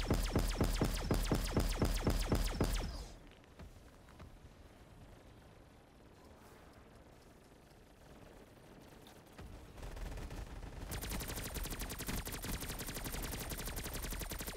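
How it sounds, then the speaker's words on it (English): Rapid, evenly spaced bursts from a nail gun special weapon in Call of Duty Black Ops 3 zombies, loud and rhythmic for a few seconds, then dropping to a quiet bed before a dense rattle of fire returns. "I got the nail gun."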